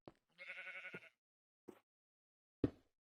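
A Minecraft sheep gives a clear, wavering bleat, followed by two short, sharp clicks or thuds against silence, close and isolated.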